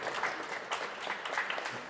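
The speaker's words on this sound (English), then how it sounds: "Little applause for Valerie" A small group applauds a speaker named Valerie at a casual talk-show gathering, steady light clapping for about two seconds with no voices.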